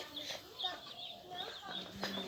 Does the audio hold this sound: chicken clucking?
yes